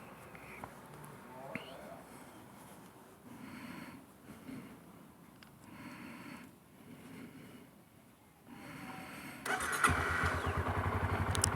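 A motorcycle engine starts near the end and settles into a close, rumbling idle, preceded by quieter outdoor background with faint murmurs.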